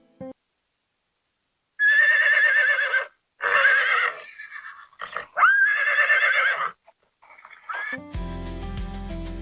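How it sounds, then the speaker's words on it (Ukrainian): Several loud, shrill horse whinnies follow one another with short gaps, close and clear, before music starts at the end. "О, це ж коники."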